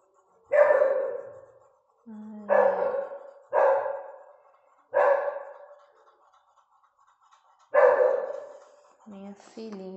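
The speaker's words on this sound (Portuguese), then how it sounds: "Minha filhinha tá latindo que só." A dog indoors barks in loud, close bursts, about six separate barks spaced a second or two apart with short quiet gaps, reacting to movement on the street outside, ending with a softer whine-like yelp.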